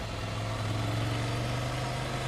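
Ducati Scrambler Icon 800 engine running through its stock exhaust, a steady low rumble with a droning bass tone held throughout, fairly quiet and even with no voices.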